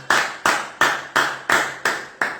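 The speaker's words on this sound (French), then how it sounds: "Acclamez très fort pour le Seigneur." A church congregation clapping loudly together, seven strong unison claps in a steady rhythm, close and alone with no talk.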